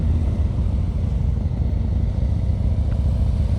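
A motorcycle engine idles and putters at low speed during advanced slow-speed riding practice, a steady close rumble with slight throttle variation and no voices.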